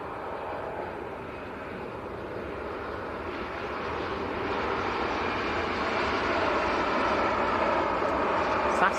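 Scandinavian SAS Airbus A320neo from Stockholm moving at Manchester Airport, its steady jet engine roar building gently over several seconds, with faint voices in the background.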